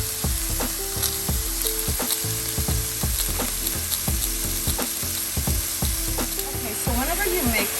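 Oyster mushrooms stir-frying in a pan for a vegan dish, a steady loud sizzle broken by repeated scraping and clattering strokes of a utensil across the pan bottom, with no talk.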